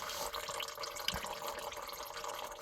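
Engine oil drains from a 2001 Ford F250 Super Duty 5.4 Triton, a steady faint pouring and splashing of liquid into a pan, close by with no voices.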